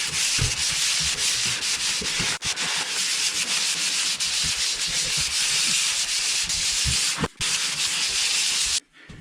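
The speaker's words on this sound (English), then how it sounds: "Just gonna give it a light sand." A skim-coated ceiling, being flattened from a knock-down texture, gets a light hand sanding: steady close scratchy rasping runs nearly unbroken, with a few brief pauses, and nobody talks.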